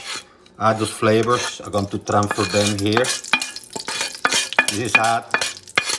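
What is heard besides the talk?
scraping oil and browned bits from a hot pan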